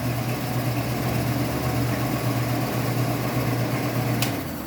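A 3 horsepower electric motor on a rice mill runs with a steady low hum and a constant mechanical drone, unbroken and close, with no voices.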